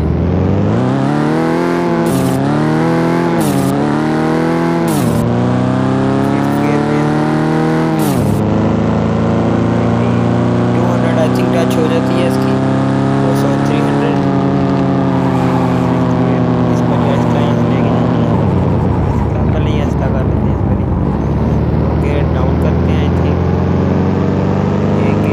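A Honda Civic engine in Car Parking Multiplayer revs loudly, climbing through several quick gear shifts early on, then settles into a sustained drone that gradually rises and falls, with a voice talking over it.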